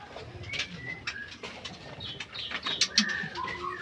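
Pigeons or doves coo amid a busy chorus of chirps and calls at a large bird breeding center, steady and fairly close, with no one talking.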